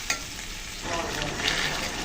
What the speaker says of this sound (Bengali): তো মশলাটা একটু কষিয়ে নিলাম তরকারির সাথে।